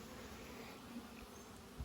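Honeybees fanning at a hive's top entrance in a summer bee yard, making a faint, steady buzzing drone that fills the whole moment without a break.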